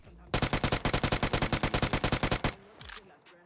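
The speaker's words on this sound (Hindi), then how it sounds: "आगे भी गोली चल रही है" Automatic gunfire in PUBG Mobile: a rapid, evenly spaced burst of about twenty-five loud, close shots lasting two seconds, followed by a few fainter, more distant shots as the burst trails off.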